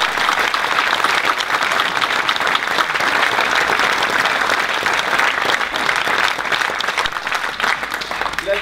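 A theatre audience applauding before a French-language play, dense continuous clapping from a large crowd, loud and sustained throughout without any voices standing out.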